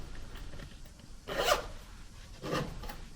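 Two quick zipper pulls on the zip pocket of a Filofax Norfolk planner wallet, each a short close rasp about a second apart, against quiet room noise with no talking.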